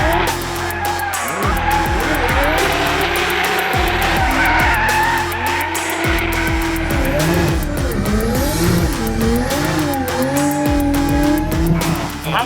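A 2026 Dodge Charger drift car at Roadkill Nights slides hard with loud, sustained tire squeal and an engine revving up and down in waves, close and continuous, with occasional voices underneath.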